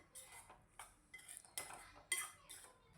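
Metal spoon scraping and clinking against a pan as blended tomato is stirred into a prawn gravy, a series of irregular, fairly faint strokes with no talk.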